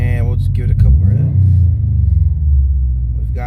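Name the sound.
Subaru WRX/STi engine revving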